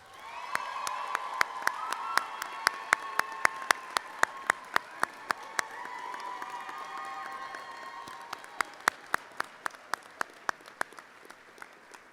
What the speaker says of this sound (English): Let's take a moment to recognize the faculty and staff of the MSBS program and give them a round of applause.